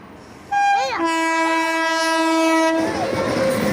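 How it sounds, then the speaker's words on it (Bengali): A passing express train blasts a long, loud horn with a pitch that bends, then rumbles on as the horn fades. "এদিক দিয়ে তো ট্রেন আসছে"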